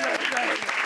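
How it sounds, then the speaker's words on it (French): A brief burst of dense, loud applause from many hands fills the space, with a voice speaking over it. "on t'embrasse, Christine, on t'applaudit."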